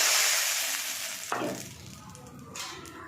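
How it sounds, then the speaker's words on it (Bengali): Bottle gourd peels dropping into a little hot oil set off a broad, steady sizzle, with a sharper burst of frying partway through, close and fairly loud with no talking. "এইটা আমি তেলের মধ্যে ফ্রাই করে নেবো অল্প করে"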